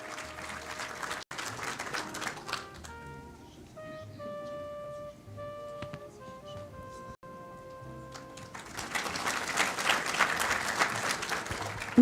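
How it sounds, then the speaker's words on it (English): Audience applause at a university graduation ceremony opening the 2024/2025 academic year at WSB Merito University in Gdańsk, with dense clapping at the start, a quieter stretch with sustained musical tones in the middle, and a loud renewed burst of clapping toward the end. "Please give them a round of applause."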